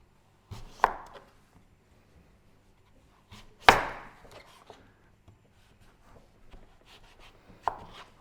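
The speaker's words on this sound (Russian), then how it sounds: "Режем тыкву ломтиками и выкладываем на приготовленный противень." A kitchen knife slices through a whole raw pumpkin in three sharp, separate cuts, each a crisp crunching thud with a short scrape, with quiet pauses between.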